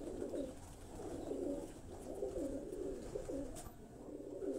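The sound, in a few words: parwazi flying pigeons cooing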